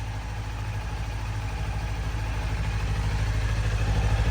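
A 2019 Kawasaki Ninja 400 motorcycle engine idles to warm up, a steady low throbbing pulse that holds even and close, swelling slightly in loudness toward the end.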